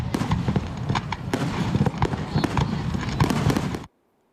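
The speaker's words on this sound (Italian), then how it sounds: "Questi fuochi d'artificio a Cavallino Treporti" Fireworks display at Cavallino-Treporti: rapid, irregular bursts and crackling pops from fairly close by, dense and continuous, ending abruptly in silence.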